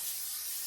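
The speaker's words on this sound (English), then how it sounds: "So I'm going to spray that with a little bit of non-stick cooking spray." A steady, close hiss of non-stick cooking spray being sprayed onto a pan in one short continuous burst.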